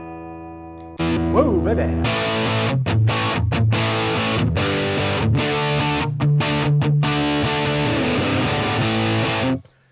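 Electric guitar played through a Soldano amp model on a NUX modeller, heavily distorted chords and bends ringing out with short pauses, close and loud, with a brief spoken exclamation near the start.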